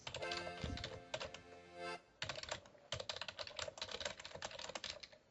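Rapid clattering keystrokes on a computer keyboard, typed in quick bursts with brief pauses between them, close and clear with no talking.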